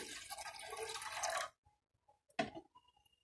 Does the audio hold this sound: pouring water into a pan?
yes